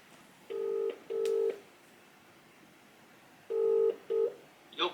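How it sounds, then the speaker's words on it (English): Touch-tone dialing on a telephone: four loud, clean DTMF beeps, two in quick succession, a pause, then two more, followed by a faint electronic tone at the end, with no talking. "I'm gonna start calling another business."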